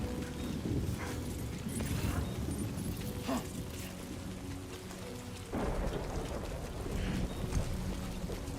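Heavy rain in the video game Death Stranding 2 hisses in a dense, continuous wash, with thunder-like low rumbles swelling at moments throughout.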